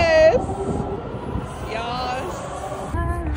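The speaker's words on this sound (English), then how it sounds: "Metro!" A metro train rumbles at a station, a steady mechanical roar with brief squeals on top, while voices chatter and call out excitedly nearby.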